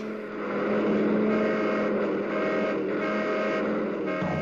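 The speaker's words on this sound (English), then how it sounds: "we had to practice dodging traffic." Cartoon car traffic roars past in a steady, loud rush of engines, a dense whooshing drone that swells slightly and holds for a few seconds with no talking.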